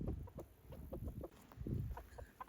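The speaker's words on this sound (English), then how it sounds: "Hi, little roosters." Young roosters on an Oklahoma farm give a series of short, soft clucks and low grumbling calls close by, in an irregular rhythm with brief pauses between bursts.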